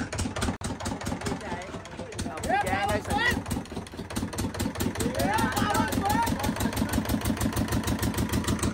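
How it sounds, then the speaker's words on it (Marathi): A fishing boat's engine starts at night and settles into a loud, steady, rhythmic chugging idle close by, while someone talks over it through much of the clip. "तर आता आपण 1 वाजलेल्या रात्री होडी चालू करतोय आपण"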